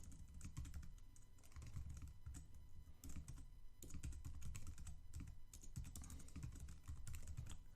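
Keys clatter steadily as HTML code is typed on a computer keyboard, a dense, continuous run of close clicks with no talk.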